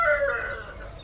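A cartoon rooster gives a short, close crow that tails off quickly, with no talk over it.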